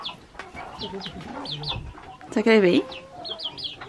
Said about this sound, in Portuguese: Olha aqui esse tamanho dos pintinhos.